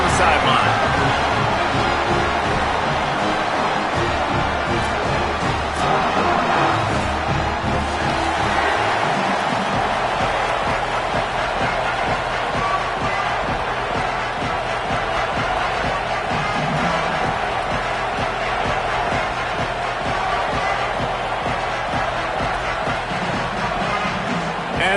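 A stadium crowd at a Louisville vs Michigan State college football game at the opening kickoff of the season gives a steady, broad roar, with an announcer talking over it throughout.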